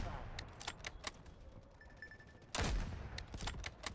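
Sniper rifle shots in the Delta Force video game: sharp, loud cracks at irregular intervals, one heavy blast standing out, with game noise underneath.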